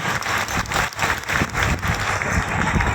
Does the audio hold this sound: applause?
yes